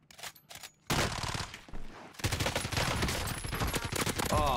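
A PKM light machine gun fires in the Warzone video game, with a sharp opening burst followed by sustained, loud automatic fire that continues close and dense to the end.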